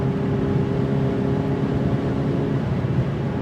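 Ferrari 488 Pista supercar engine holding a steady, loud, close droning hum through the whole stretch, with no distinct break in the tone.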